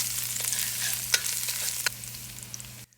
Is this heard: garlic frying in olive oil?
yes